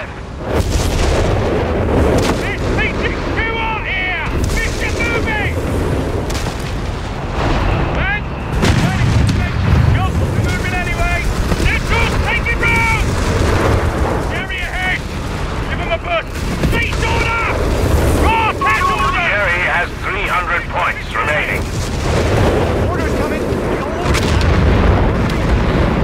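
Artillery and gunfire in Company of Heroes 3, a World War II strategy game, thump and crack repeatedly through the whole stretch with voices calling out over the barrage.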